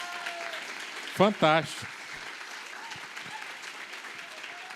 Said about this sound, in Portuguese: dá mais uma salva de palmas para ele.